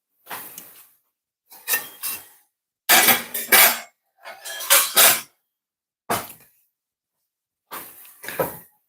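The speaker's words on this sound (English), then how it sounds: "So these are my pots I normally use for braising. So I'm just going to take them out the way and adjust them a bit." Metal braising pots clank and scrape as they are lifted and shifted on a stovetop, six separate bursts of clattering, each close and fairly loud, separated by short silences.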